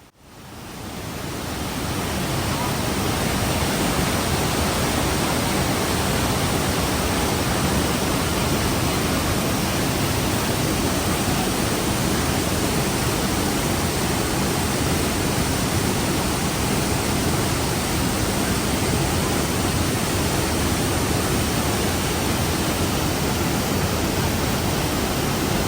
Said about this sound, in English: Here, you get to stand right next to the cascade of the falls, a truly awe-inspiring location.